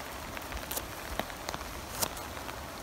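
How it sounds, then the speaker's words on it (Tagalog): Light rain falling in a forest during mushroom foraging, with scattered close raindrops ticking irregularly over a soft, steady background hiss. "hindi lang po malakas ang ulan eh"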